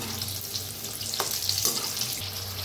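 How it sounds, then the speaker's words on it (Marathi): Chana koli vada deep-frying in oil on a medium flame: a continuous close crackling sizzle with a few sharper pops and stir-like scrapes, no talking. "छान असं तळून घ्यायचं, बारीक मध्यम गॅस करायचा"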